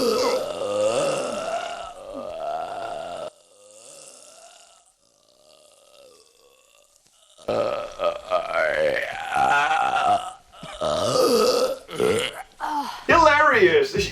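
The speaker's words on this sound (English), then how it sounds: "Hilarious! She burped." A woman burps in a low-budget horror movie soundtrack, a drawn-out belching grunt amid film dialogue and music, with a quieter stretch midway before loud voices and sound return.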